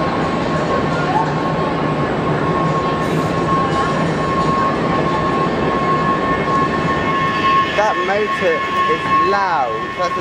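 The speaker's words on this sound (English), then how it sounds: "That's a loud escalator motor." A loud escalator motor drones steadily with a sustained mechanical hum and whine beneath the clatter of the moving steps, near and constant, and a voice speaks over it toward the end.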